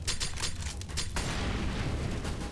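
Grenades going off in a Counter-Strike: Global Offensive match on the Inferno map, a rapid burst of sharp pops and booms that gives way to a dense, steady rumble of gunfire and blasts.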